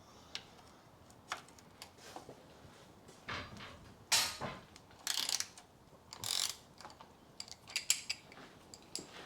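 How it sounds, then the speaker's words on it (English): A hex socket on a ratchet clicks in short bursts undoing the 13mm sump plug on a 2013 Ford Fiesta 1.0 petrol engine, with metallic clinks between the bursts, close up. "we'll take the sump plug out and drain the engine oil"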